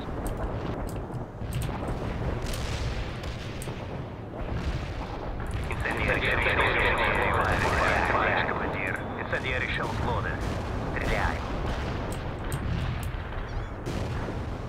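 Artillery strike in the strategy game World in Conflict, a series of heavy booming impacts and rumbling detonations with scattered gunfire, fairly distant and dense, while a voice talks over the battle noise.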